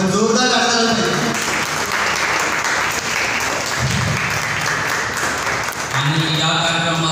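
Loud, sustained audience applause filling the room at an event, dense and steady for several seconds before fading slightly near the end as a voice returns.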